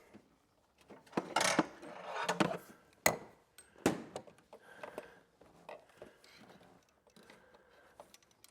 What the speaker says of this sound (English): And then we'll go back in with the ratchet.